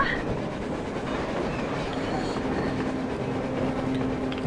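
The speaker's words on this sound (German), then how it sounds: "Oh, da fährt eine Eisenbahn." A train in the Metro Exodus video game rumbles past as a steady, dense low roar with faint rhythmic clatter, continuous and fairly loud throughout.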